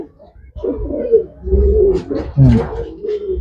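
An 8-9 month old pigeon coos nearby, a series of low, throaty rolling coos in uneven bursts.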